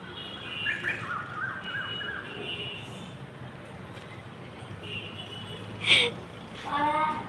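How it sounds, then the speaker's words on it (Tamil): A koel calls outdoors in clear, repeated notes, with one loud call standing out and a rising run of calls near the end over steady background noise. "குயில் சவுண்டு கேட்டிங்களா அழகாக இருக்குது"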